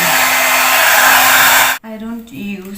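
A KMT Style hair dryer blows steadily with a loud broadband roar for most of the clip, then cuts out abruptly and gives way to a quieter, lower hum, likely a different setting.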